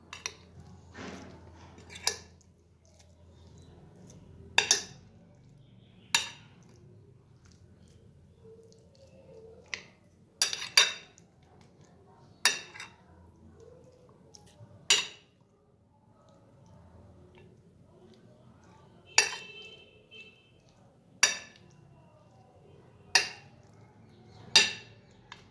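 Utensils click and tap sharply against a bowl as garlic is mixed into raw fish, about a dozen scattered, faint hits spread over a quiet background.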